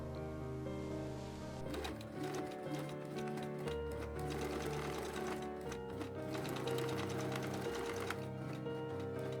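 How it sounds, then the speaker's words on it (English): A sewing machine runs a fast, steady rattle while stitching a jeans zipper, pausing briefly and then continuing close by and clear. "make a single line of stitching, you can make a double line of stitching"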